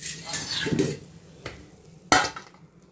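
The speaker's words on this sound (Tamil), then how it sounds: "இப்போ இதை ஒரு மூடி போட்டு முடிக்கிடுவோம்" Soft kitchen clatter and stirring noises, then a sharp metallic clank as a lid drops onto a cooking pot, followed by quiet.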